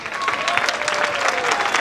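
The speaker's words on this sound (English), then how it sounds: "So very, very thundering loud applause, please." Audience at a silver jubilee celebration breaks into loud, sustained applause, a dense even wash of clapping from a large crowd, close and continuous throughout with no pause.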